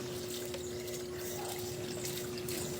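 Water rushes steadily from a 12V solar- and battery-powered submersible pump in a home setup, a constant close hiss of flow with a low, even hum beneath it and no pauses.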